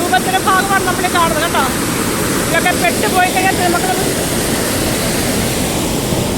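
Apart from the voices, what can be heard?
water gushing from Neyyar Dam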